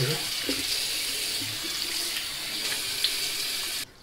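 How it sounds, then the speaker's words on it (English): A tap runs steadily with cold water in a constant, close hiss of splashing water, rinsing during a shave, then shuts off abruptly near the end. "Rinse it with cold water"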